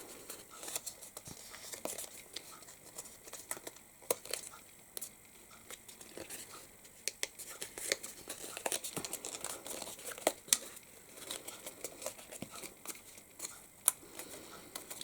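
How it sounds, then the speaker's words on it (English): Craft kit box lid pieces of card being pre-folded by hand, giving continuous close crinkling and crumpling paper sounds with scattered sharper creases and snaps, no talking. "we do want to pre-fold all of these"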